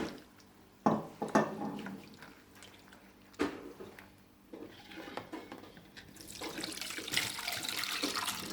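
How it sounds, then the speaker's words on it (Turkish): Water runs and splashes into homemade lemonade with sugar, a faint steady pour with a few louder splashes and drips, growing fuller toward the end. "iyice şekerle özleştikten sonra şimdi suyunu ekliyoruz"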